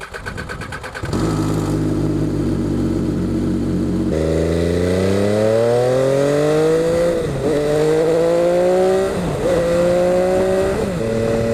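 A loud MV Agusta F3 motorcycle engine idles roughly, then revs up and down several times, the exhaust note rising and falling close by.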